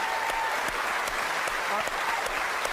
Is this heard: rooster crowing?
no